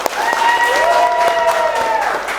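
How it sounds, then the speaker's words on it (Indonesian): An audience claps in a classroom workshop session, a dense steady patter with a sustained tonal hum or whistle running over it, lasting a couple of seconds. "Oke, tepuk tangan dulu kita semua"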